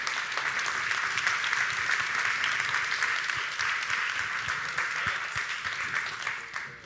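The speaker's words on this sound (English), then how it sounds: "Give them a round of applause." A keynote audience gives a round of applause for three athletes on stage, sustained dense clapping from a large crowd that holds steady before tapering off near the end.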